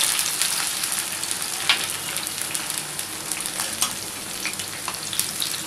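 Onion fries in a pan for poha with a constant close sizzle, crackling and popping, plus a few sharper spatters and occasional stirring, and no one speaking.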